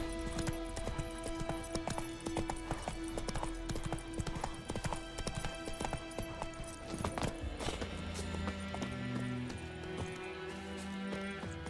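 A horse gallops in The Witcher 3 video game with rapid, rhythmic hoofbeats that carry on steadily and close, then give way to a softer passage with a brief whinny-like tone and game music underneath.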